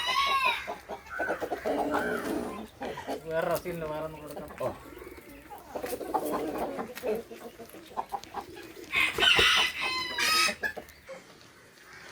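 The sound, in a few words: fancy breed chickens clucking and rooster crowing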